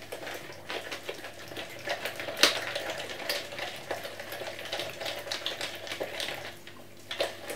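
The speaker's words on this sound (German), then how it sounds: "wird das jetzt umgerührt, bis das eine ja, gleichmäßige Masse und Paste gibt" Hemp paste being stirred by hand in a flimsy mixing cup, a thick, sticky dough giving off soft scraping and clicking taps in an irregular rhythm, close and fairly quiet with no talking.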